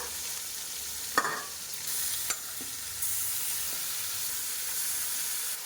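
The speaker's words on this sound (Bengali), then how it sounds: "মাছটা একটু কালো জিরা তেলে দিয়ে দিলাম সাথে কয়েকটা কাঁচা লঙ্কা" Fish pieces fry in oil with nigella seeds and green chillies, making a steady bright sizzle punctuated by a few sharp spattering pops and clinks nearby.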